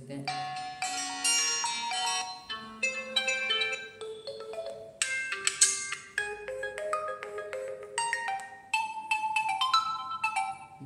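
Default system ringtones on a Realme X3 phone play one after another, short bright chiming melodies and synth tones with brief gaps between them, clear and close.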